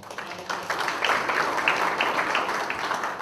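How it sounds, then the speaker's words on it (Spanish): An audience applauding after a group presentation on occupational safety and health regulations: a dense, moderately loud patter of clapping hands that continues steadily throughout. "Bien, aplausos"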